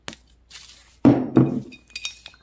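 Glass items are lifted out of a shopping bag, clinking together in two or three close, bright bursts amid soft rustling.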